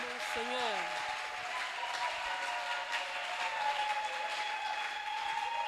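A church congregation applauding during a service, a sustained wash of clapping that runs steadily throughout, with a voice speaking briefly over the start.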